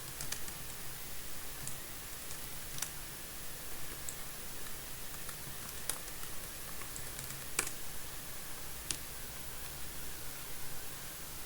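Sparse keyboard clicks, a few scattered keystrokes at irregular intervals, over a steady hiss of background noise.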